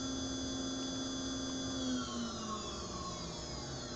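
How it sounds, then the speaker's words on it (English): CNC spindle driven by a VFD spinning up, a thin whine whose tones glide steadily as the motor gains speed, heard fairly quietly over a low hum. "I have my spindle, so I can turn it on, and you can hear my spindle spin up"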